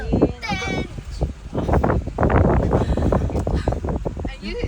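Wind gusts across the open Nagcarlan landing point in Laguna, buffeting the microphone with rough, uneven rumbles beneath people chatting nearby.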